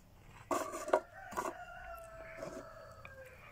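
A chicken crows and clucks in a few short, loud bursts close by, followed by quieter trailing clucks against a faint indoor background.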